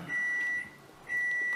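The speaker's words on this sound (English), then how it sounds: "Don't mind the beep in the background." A steady, high electronic beep sounds faintly in the background of a quiet room, starts twice with a short gap between them, and has no talking over it.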